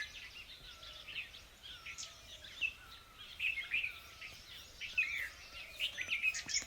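Several small birds chirp and twitter from a short distance in an evening field in the mountains, with irregular bursts of song over a quiet outdoor background.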